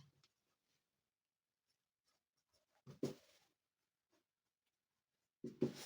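Chalk or pen writing during a Class 7 maths lesson: a couple of short scratchy strokes, close but faint, separated by long quiet gaps.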